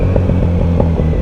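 Motorcycle engine idling and blipping with small exhaust pops, heard up close in an early-morning street in Bournemouth; a steady rumbling throb with rhythmic pulses and crackles running throughout, loud and alone.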